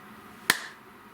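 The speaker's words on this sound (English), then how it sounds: "Oh, magic clap." One sharp, close hand clap, brief and isolated against a quiet background.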